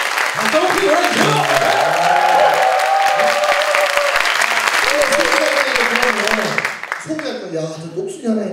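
An audience claps and applauds loudly and steadily at a Korean talk show taping, a dense wash of hands that fades a little toward the end, with voices talking over it.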